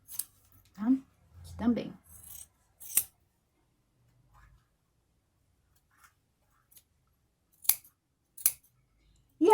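Scissors snip and trim the edge of a satin-lined sweatshirt fabric at a sewing table, giving several crisp, close cuts spaced a second or so apart, with brief speech early on and quiet gaps between snips.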